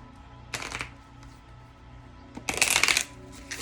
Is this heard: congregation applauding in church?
no